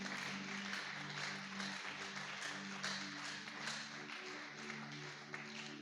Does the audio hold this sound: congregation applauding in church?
yes